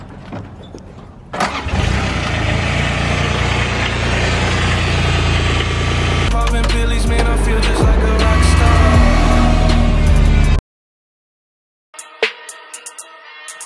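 Subaru WRX with a cat-back exhaust cranks over and settles into a loud, rumbling idle close by, the engine note shifting partway through before cutting off, followed by brief scattered noises.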